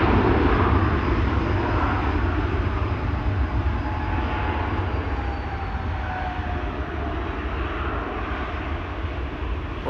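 KLM Flight 597, a passenger jet bound for Cape Town, taxiing and turning at Amsterdam Schiphol airport, its engines producing a loud, steady, close roar that sits heavy throughout and eases very slightly over time, with no talking.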